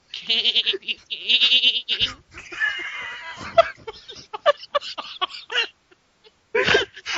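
A person imitates a sheep with a wavering, nasal bleat, followed by scattered laughter and chatter from a small group nearby.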